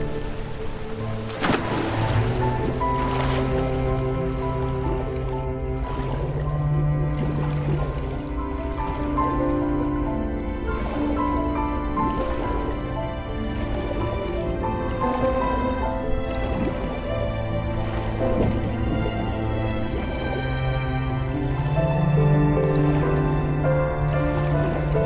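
Flowing water in the game RiME, a steady soft wash of surf and trickling running throughout, layered under sustained musical tones with no talk.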